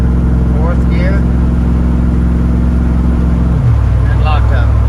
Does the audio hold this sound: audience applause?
no